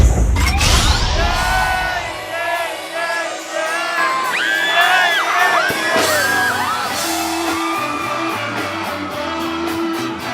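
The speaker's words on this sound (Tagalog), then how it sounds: "Ang madlang people, abay, mga nagwawala." Loud crowd whooping, yelling and cheering at a budots dance performance, with high shrill voices rising and falling over a pulsing music beat, dense and sustained throughout.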